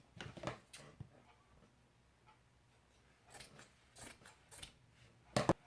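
Scissors snip through sewing fabric in a few short bursts separated by quiet pauses, close and crisp, ending in one sharper cut.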